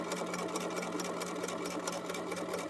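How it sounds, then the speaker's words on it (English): A sewing machine runs steadily while stitching a quarter-inch seam, a fast even mechanical whir with rapid needle ticking, close and continuous with no pauses. "But I'm going to keep sewing"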